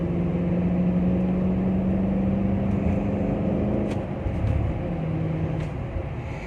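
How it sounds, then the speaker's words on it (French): A Range Rover engine hums steadily from inside the vehicle as it accelerates gently, a close, even rumble that dips slightly toward the end, with no talking. "Je vais accélérer un petit peu. Vous allez voir, c'est très vif."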